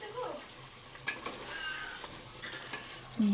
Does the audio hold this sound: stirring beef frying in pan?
yes